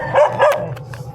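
A leashed dog at a free anti-rabies vaccination in Sumacab Norte, Cabanatuan, gives two quick, loud barks close by, followed by a short quieter moment.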